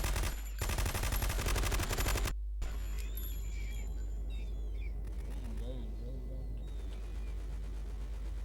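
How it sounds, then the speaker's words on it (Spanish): Machine gunfire in the video game Metal Gear Solid 2, a loud rapid burst of repeated shots lasting about two seconds, then quieter game sounds, electronic tones and a voice speaking. "Esta era la que estaba disparando. ¿Habéis oído los tiros antes?"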